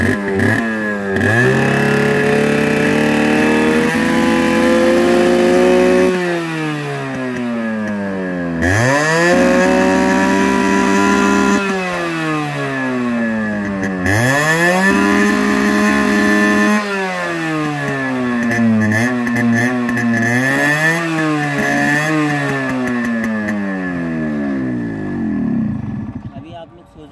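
Restored Yamaha RX100 two-stroke motorcycle engine revved up and down repeatedly, loud and close, with rising and falling pitch sweeps over a steady idle; a voice talks over parts of it.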